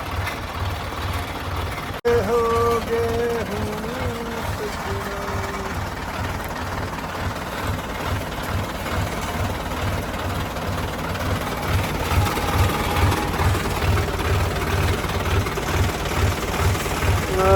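A farm motor runs during fertilizer spreading, a steady rhythmic low chugging that stays close and constant, with a few brief tonal sounds early on.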